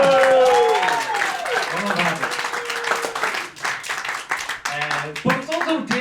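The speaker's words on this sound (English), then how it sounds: "Round of applause." Audience clapping at a comedy workshop, moderate and steady for several seconds, with voices talking over it.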